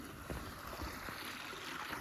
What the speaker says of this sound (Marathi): इकडं पाणी चालू आहे